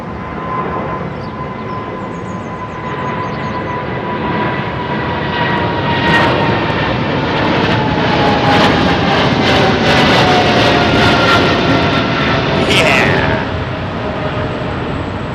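A Qatar Airways Boeing 777 jet roars steadily on the runway at Singapore, its engine noise building to a loud, broad rush and holding strong throughout with no voices.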